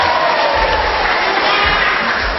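A crowd at a regency candidates' debate in Bungo, Indonesia, in 2015 claps and cheers loudly and continuously at close range.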